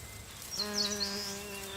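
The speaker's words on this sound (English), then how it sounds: "Eastern honey bees." Eastern honey bees buzzing in a Korean forest, a soft steady drone with one bee's wingbeat swelling nearer midway, faint and alone with no voices.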